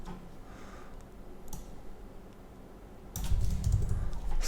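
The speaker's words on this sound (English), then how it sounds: "Of course, you can type here whatever you want." Computer keyboard typing while building an admin dashboard, with sparse soft clicks early on, then a louder, denser burst of rapid keystrokes near the end.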